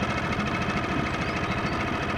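A Parsun F5 four-stroke 5 hp outboard boat motor runs steadily, a continuous mid-pitched mechanical drone with rapid pulsing and a light ticking rattle, close and alone.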